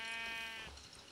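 A sheep in the Minecraft video game gives one short, clear bleat up close, quavering and then fading, with no talk over it.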